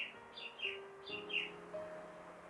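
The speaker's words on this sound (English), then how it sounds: "There's a sparrow on my terrace." A sparrow chirps on a home terrace in a short run of high, bright chirps, about five or six notes in loose pairs, close and clear over a low steady hum.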